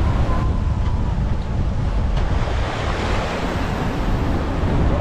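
Strong gusting wind buffets the microphone over rushing sea waves aboard a sailboat nearing port in rough, swelly conditions, a loud continuous roar with no voices.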